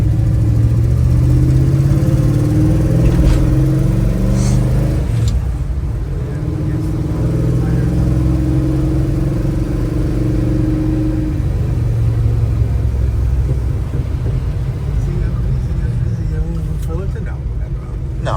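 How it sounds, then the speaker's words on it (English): A car pulls in with its engine running, a low steady rumble that continues under people talking nearby. "That was Matt pulling in for work."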